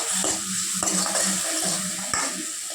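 Tomato rasam stirred in a pot with turmeric, coriander and curry leaves, a steady close scraping and swishing over a soft sizzle, with light clinks of the spoon against the metal.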